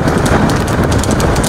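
Horses in an outdoor reckla cart race clatter past close and loud, hooves drumming in a dense, continuous rush without clear individual beats.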